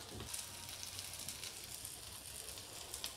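Chavvari vada frying gently over a low flame in a spoonful of oil or ghee, giving a steady, soft sizzle that hisses continuously and quietly with no talking.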